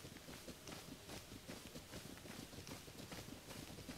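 Horse hooves gallop in Zelda: Tears of the Kingdom, a steady rapid clip-clop rhythm running throughout at moderate loudness, with no talk over it.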